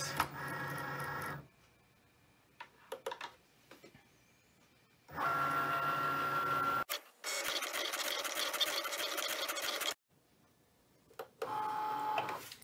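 A Cricut cutting machine cuts a scrap of vinyl, its motor whirring in several loud bursts with short pauses between, one long steady run near the middle, with no talking.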